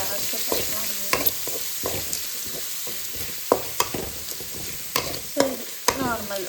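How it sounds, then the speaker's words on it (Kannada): Chopped onions fry in a pan with a continuous sizzle, while a utensil stirs and scrapes them in irregular sharp knocks throughout, close and fairly loud. "ಕಟ್ ಮಾಡಿರೋಂಥ ಆನಿಯನ್ ಹಾಕ್ಕೊತಾ ಇದ್ದೀನಿ."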